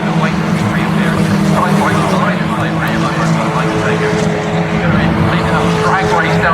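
TCR touring race cars battle at Snetterton. A loud, continuous mix of engine roar and drone from several cars runs throughout, with a commentator talking over it.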